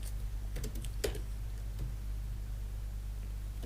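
Computer keyboard typing, faint keystrokes clicking in a short quick run over a steady background hum.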